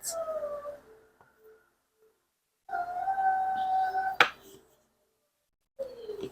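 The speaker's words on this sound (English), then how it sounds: "That is my puppy. He is letting me know that he is awake." A puppy howls in three separate bursts: a drawn-out howl at the start, a longer one in the middle ending in a sharp yelp, and a short rise at the end, close by with quiet gaps between.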